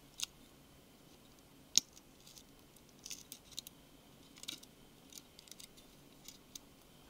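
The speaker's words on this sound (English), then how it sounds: "So make sure you cut a hole out for the secondary camera." Scissors trimming a hole for the camera while replacing the touch glass on a Nokia Lumia 920 phone: faint, scattered small snips and ticks, close and quiet, with no speech.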